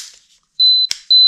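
A Canon AE-1 Program SLR camera's self-timer sounds two sharp, high electronic beeps, close and loud, with a faint click between them and near silence before.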